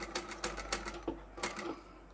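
A sewing machine stitches fabric for a jar opener, a quick close run of needle clatter in short bursts, pausing and restarting for a backstitch, with no talk.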